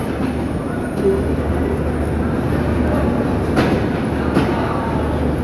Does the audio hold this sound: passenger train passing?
yes